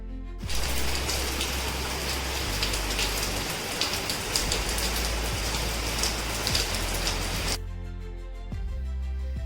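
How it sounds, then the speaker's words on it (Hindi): Heavy monsoon rain pours down steadily in Dehradun, a dense, loud hiss of drops on surfaces that holds for several seconds before cutting off, leaving quieter patter behind. "यहाँ देहरादून में पिछले कुछ दिनों से बहुत ज्यादा बारिश हो रही है।"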